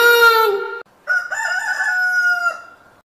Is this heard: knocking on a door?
no